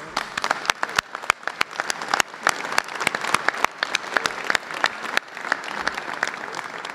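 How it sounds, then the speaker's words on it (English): An audience claps for staff at a pension reform bill signing, with sharp individual claps standing out from steady, moderately loud applause that lasts about seven seconds. "So those three individuals in particular deserve a round of applause."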